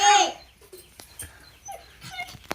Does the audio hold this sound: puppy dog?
yes